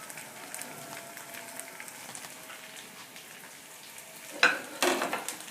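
Potatoes frying with garlic in a pan, a faint, steady crackling sizzle heard up close, broken near the end by two louder metallic clanks as more pieces drop in.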